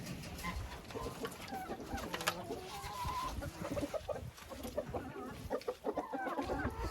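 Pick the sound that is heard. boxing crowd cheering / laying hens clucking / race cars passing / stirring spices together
laying hens clucking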